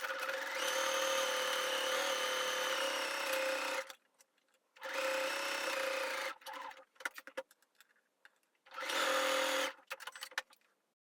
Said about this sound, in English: I will just overlock it because I like the tidiness of it